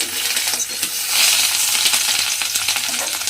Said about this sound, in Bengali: এইবারে আমি একটা একটা করে মাছ এর মধ্যে দেব, দিয়ে ভালো করে লাল করে মাছটাকে আমার ভেজে নিতে হবে